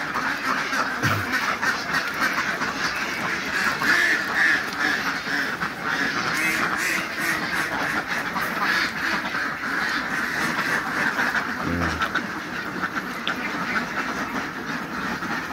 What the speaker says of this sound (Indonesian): ini bebek hibrida